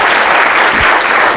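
Conference audience at a security talk applauding, a dense steady burst of clapping filling the room, loud and close throughout.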